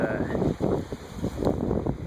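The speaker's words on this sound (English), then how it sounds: "it's really nice out here, it's just really windy." Strong wind buffets the microphone in loud, uneven gusts while kayaking on Shoshone Lake, with a low rumble and faint water or boat noise underneath.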